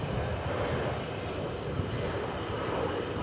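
Airliner departing DFW Airport for Lubbock, a steady, broad engine roar heard from a distance and holding at a constant level throughout.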